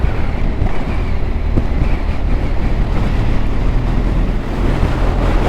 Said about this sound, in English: It's quite windy up here, and it's a bit chilly.